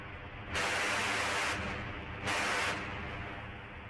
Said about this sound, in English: so that's VHS noise generator.